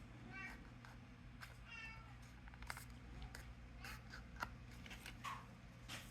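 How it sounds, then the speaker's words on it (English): A talkative house cat meows repeatedly, quiet and somewhat distant, over a low steady room hum with paper rustling during origami folding and a person speaking. "my cat is so talkative right now"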